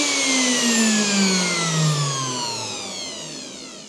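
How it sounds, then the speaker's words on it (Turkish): A wood router is switched on and runs loud and close, with a rising, whining motor tone that settles into a steady high-pitched drone whose pitch slowly drifts downward. "Güvenlik mandalına bastık, makineyi start verdik."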